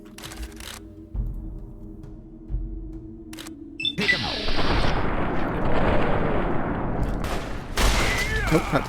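Weapon fire in Fallout: New Vegas opens with a few sharp, isolated game-world noises, then breaks into a loud, dense barrage of shots and impacts that continues to the end.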